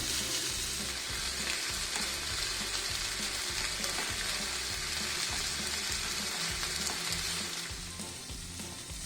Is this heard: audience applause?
no